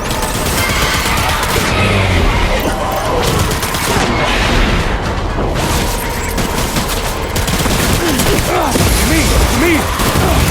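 Gunfire in the video game Death Stranding, loud and dense, sustained volleys of rapid shots and bursts over a constant rumble of battle, with voices shouting orders throughout.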